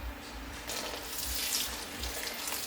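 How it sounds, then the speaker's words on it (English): Water runs in a steady stream as it is added to dough for saheena, rising slightly midway and continuing close by with no talk. "I will keep adding more water"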